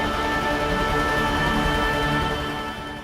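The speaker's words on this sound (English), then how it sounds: "A cinematic drone in sound design refers to a continuous low-frequency sound or tone that is often used to create a particular atmospheric mood, suspense, or unease." A continuous low cinematic drone sound effect holds a steady, dense sustained tone throughout, loud and alone, easing off slightly at the end.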